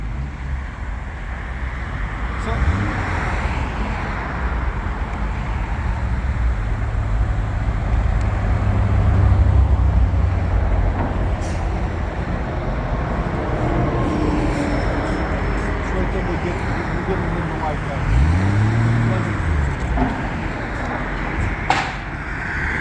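A Toyota MK3 Supra's exhaust rumbles as the car is backed out during a shop sound test, a steady low drone with a brief rise near the end, heard from outside the car.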